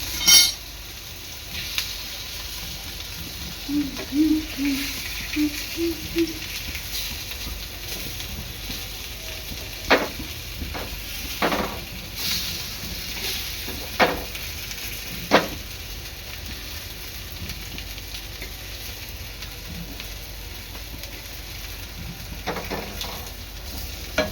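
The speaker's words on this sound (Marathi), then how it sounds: "एक दोन मिनटानंतर पनीर पलटून घ्यायचं आहे" Paneer slices fry in oil in a pan with a steady, soft sizzle, broken by a few sharp utensil clinks and scrapes as the pieces are flipped; no voices.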